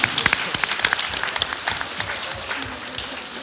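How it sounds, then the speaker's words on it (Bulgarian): Audience applause for a quiz team at a concert, a dense burst of clapping that starts loud and gradually thins and fades over a few seconds. "Аплодисменти за отбора на немската."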